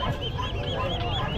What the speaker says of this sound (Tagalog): Mga bibe.